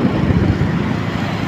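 Road traffic on a cold, rainy winter night rolls past in a continuous broadband roar, vehicles and motorcycles blending into steady roadway noise at moderate distance, with no voices heard.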